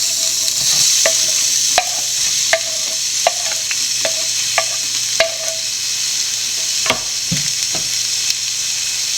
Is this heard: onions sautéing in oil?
yes